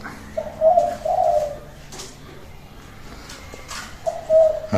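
A zebra dove, also called a Java dove, gives soft repeated coos, with a phrase near the start and another near the end. It sounds close against a noisy outdoor background.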